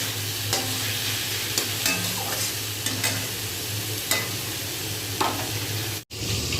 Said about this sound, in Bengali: মাছ ভাজা বসিয়েও দিয়েছি